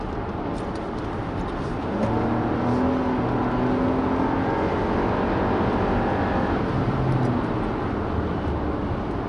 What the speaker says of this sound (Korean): 부드럽게 하지만 빠르게 속도를 올리고 있습니다.